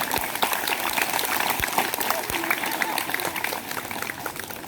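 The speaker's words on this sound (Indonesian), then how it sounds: "dengan diiringi teman-teman yang lain, tepuk tangan sampai di tempat duduk" A room full of people claps steadily, a dense patter of applause that fades slightly toward the end.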